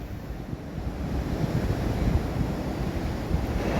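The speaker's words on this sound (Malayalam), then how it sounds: "ഇതിപ്പോൾ കടൽക്ഷോഭം വീണ്ടും കൂടിയിട്ടുണ്ട്" Rough monsoon sea pounds the coast at Chembarikka during a bout of sea erosion, producing a continuous, loud roar of breaking surf mixed with gusting wind noise and no voices.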